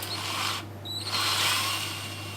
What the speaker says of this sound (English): I put a bit of tape on my drill bit to make sure I don't overshoot or not go far enough.